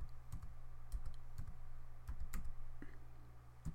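Someone types a command into AutoCAD on a computer keyboard: a quiet, irregular run of close key clicks and taps over a low steady hum, with no talking.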